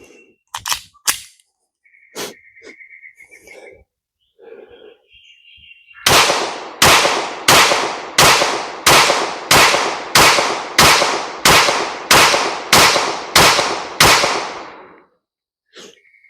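A Glock 23 pistol converted to 9mm fires a full 15-round magazine on an outdoor range, with sharp, loud shots in a steady rapid rhythm that follow a few scattered clicks and handling noises.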